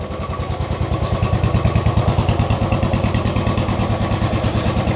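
A 2014 Royal Enfield Bullet EFI 500cc motorcycle running close by just after starting, its single-cylinder engine thumping in a steady, even, loud beat that holds for several seconds with no talk over it.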